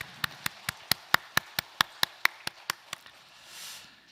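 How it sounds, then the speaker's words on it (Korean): Hands clap in an even, steady rhythm at a Sunday church service, about a dozen sharp, distinct claps in a row, then they stop and a soft breath or rustle follows. "영광의 박수 올려드리겠습니다."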